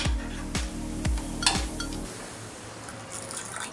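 Water is poured into a cooking pot of prawn rice in four or five short gushes, each with a falling gurgle, close by, followed by a quieter, hissy trickle.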